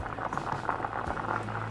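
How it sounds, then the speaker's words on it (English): Beans for Hoppin' John bubble at a steady boil in a pot, a continuous close, moderately loud patter of popping bubbles with a low hum underneath and no talk. "Beans are boiling."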